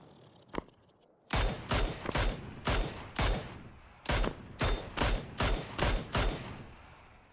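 Gunfire in the video game PUBG: a single shot, then a rapid string of about a dozen sharp, loud reports in quick bursts, each ending with a short decay.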